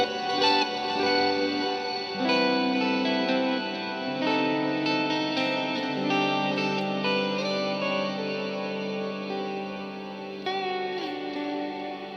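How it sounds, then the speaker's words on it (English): Sustained electric guitar lead through the STL Tonality Andy James amp plugin, with heavy reverb and echoing delay, notes ringing and trailing into each other, loud and continuous with no voices. "You hear that reverb and delay?"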